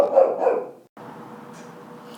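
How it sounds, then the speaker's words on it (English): A dog barks indoors in a short, loud burst of woofs, followed by a quieter stretch of low whining and background noise. "that means my dog needs to go outside"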